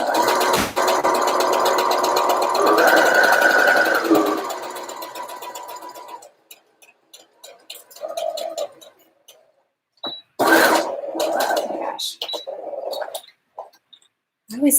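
Sewing machine stitching a skirt seam, a loud steady mechanical whir for about six seconds, then shorter bursts of stitching broken by pauses, with a little quiet talk in between.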